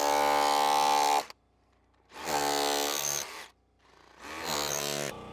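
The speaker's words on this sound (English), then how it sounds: "use a wood chisel welded to an SDS bit" An SDS rotary hammer drill fitted with a wood chisel welded to the bit, chattering loudly in three bursts of about a second each with short pauses between, outdoors during a retaining wall build.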